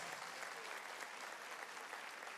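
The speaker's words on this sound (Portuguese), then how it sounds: "Você pode dar um aplauso ao Senhor" A church congregation gives a soft, distant round of steady applause, a broad hiss of many hands clapping at once with no voices standing out.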